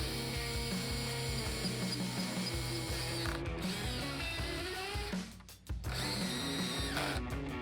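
A power drill drives pocket hole screws into wood while skirt boards are attached for a mid-century modern bench, a steady loud whirring with ratcheting texture and one short pause near the end.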